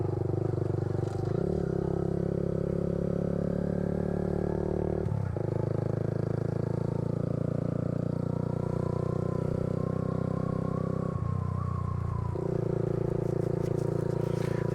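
A Kawasaki Z125 Pro motorcycle engine drones loudly and steadily near a park, its pitch dropping and climbing again around brief throttle or gear changes while doing wheelies.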